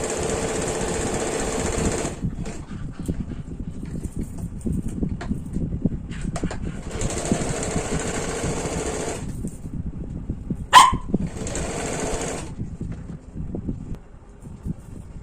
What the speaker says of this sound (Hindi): इस प्रकार से दोनों डार्ट का हम लोग डबल सिलाई से कर लेंगे।